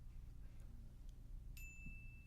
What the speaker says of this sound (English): there went the bell